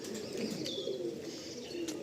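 Pigeons released to fly on an overcast day give soft, steady cooing and murmuring close by, with a faint flutter of wings, continuous over a quiet outdoor background.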